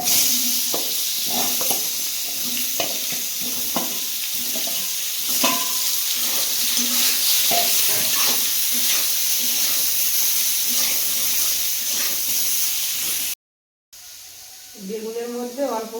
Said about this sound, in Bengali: তেলের মধ্যে আলু আর বেগুনটা ভেজে নেব